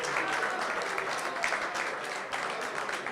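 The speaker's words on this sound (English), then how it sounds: "Please join me in a big round of applause for the young Mekela group." An audience at a Hanukkah celebration at the Embassy of India claps in sustained, dense applause from many hands, loud and even throughout.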